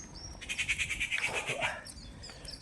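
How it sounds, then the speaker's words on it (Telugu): Birds call outdoors in a rhythmic series of bright, repeated chirps lasting about a second and a half, moderately close, followed by a few fainter tweets, with no talking. "కొన్ని పక్షులు కూడా సౌండ్స్ ఇలా ఉంటాయండి."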